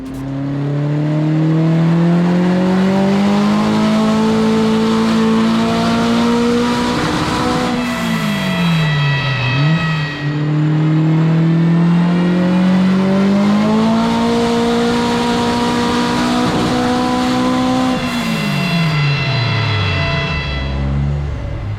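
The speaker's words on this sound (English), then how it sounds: "So with the car strapped down and the safety checks done and the first few full power runs under our belt" Car on a rolling road dyno, strapped down for full power runs, its engine climbing steadily through the revs in two long pulls, each ending in a sharp drop as the throttle closes. Loud, close and continuous, with no talk.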